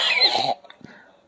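A single short, harsh cough up close, cut off after half a second and followed by a faint breathy throat sound.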